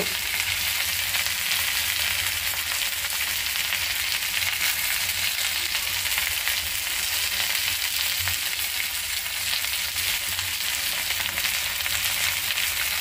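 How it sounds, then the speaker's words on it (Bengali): Chopped onions fry in hot oil, giving a loud, continuous, even sizzle and crackle that holds steady from start to finish with no voices. "এখন আমি পেঁয়াজ দিয়ে দিব।"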